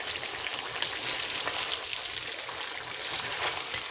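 Sliced potatoes and onions frying in a pan make a steady, close crackling sizzle like light rain, with scattered pops and no voices.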